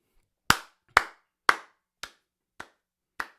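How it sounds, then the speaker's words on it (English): Six slow, deliberate hand claps, crisp and close, spaced about half a second apart with silence between them, the later ones slightly softer. "slow clap,"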